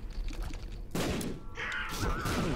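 Explosive shots landing in The Binding of Isaac: Rebirth, heard as a short burst of muffled blasts and thuds that become a dense rumbling flurry partway through.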